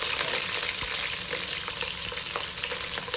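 Capsicum fries in oil in a pan, giving a steady, moderately loud hiss with faint crackles and occasional light stirring taps.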